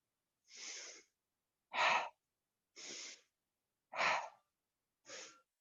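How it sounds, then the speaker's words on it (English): Five slow, audible breaths pushed out through the mouth during a yoga-style breathing exercise, each a soft airy whoosh lasting about half a second, evenly spaced and close, with silence between them. "see if you can exhale through the mouth"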